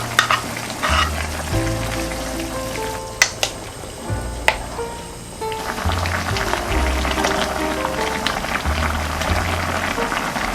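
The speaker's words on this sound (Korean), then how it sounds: "채소가 잘 끓고 있고요." Squid stew with vegetables and chopped green and red chili peppers bubbling in a pot, a continuous soft crackling boil heard close under steady background music, with a couple of sharp clinks.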